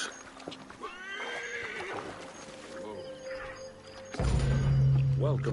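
Horse in Assassin's Creed Origins on PS5 neighing in a loud, wavering whinny with hoof clip-clop, followed by a low droning sound and a shorter snort-like call near the end.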